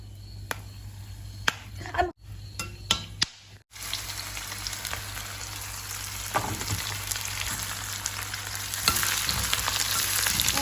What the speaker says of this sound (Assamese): ইয়াত তেল দিলোঁ, প্ৰথমতে আলু ফ্ৰাই কৰি ল'ম।